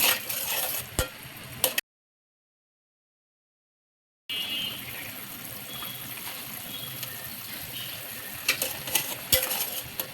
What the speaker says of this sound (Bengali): এখন চিংড়ি মাছগুলো দিয়ে ভালো করে নেড়ে চেড়ে দিয়ে দিব